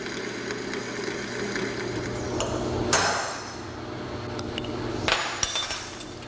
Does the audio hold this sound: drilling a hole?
yes